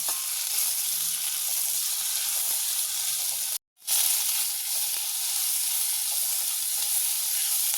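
Onion and tomato fry in a pan with green chillies, a steady close sizzle and hiss with occasional stirring, continuous apart from a brief cut, no talking.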